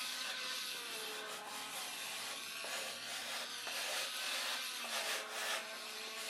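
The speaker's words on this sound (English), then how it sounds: "Now we gotta sand this a little better." Hand sanding a wooden part gives a continuous close scratchy rubbing with repeated back-and-forth strokes, fairly quiet and with no voices.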